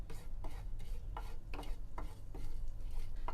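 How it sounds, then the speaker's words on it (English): Cumin seeds sautéing in hot oil in a pan, with a soft continuous sizzle broken by rhythmic scraping strokes of stirring, about two or three per second, close and fairly quiet. "we're going to add in the cumin seeds, and we're going to saute that for a little bit"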